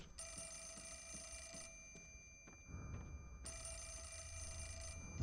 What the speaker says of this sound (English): I'm not gonna answer the phone.